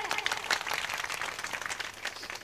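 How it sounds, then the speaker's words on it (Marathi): Audience clapping in a Marathi comedy kirtan hall, a steady, fairly dense burst of applause from a crowd, moderately loud and continuous throughout. "जोरदार टाळ्या"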